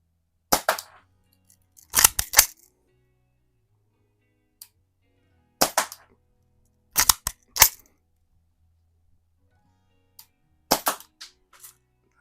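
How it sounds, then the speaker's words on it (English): Shots from a Daisy 177 air gun being fired outdoors, about eight sharp, loud cracks in irregular clusters with quiet gaps between them and no talking. "the Daisy 177. In my experience with these, it takes a couple of shots to kind of get things loosened up and rolling."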